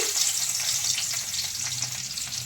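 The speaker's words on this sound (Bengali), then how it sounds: "তেল বেশ ভালোভাবে গরম হয়ে গেছে এবার এর মধ্যে দিয়ে দিচ্ছি রসুন কুচি" Steady, close sizzling of garlic frying in hot oil, a continuous hiss with faint crackles throughout.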